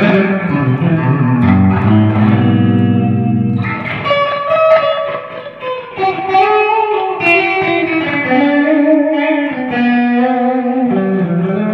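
Electric guitar played clean with a touch of grit through a Tomsline Tube Pusher valve combo simulator pedal, gain rolled down, sustained chords and melodic notes ringing out loud and steady with some reverb and chorus shimmer.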